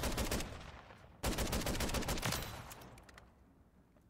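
Rapid automatic fire from a battle rifle converted from a shotgun in a video game, loud sustained bursts with a brief break near the start, then tapering into echoing decay.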